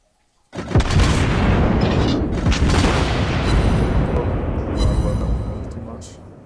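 Secondary guns of the battleship Gneisenau firing in the naval game World of Warships Blitz: a dense, sustained barrage of booming shots and bursts, loud and continuous, with a speaking voice over the top.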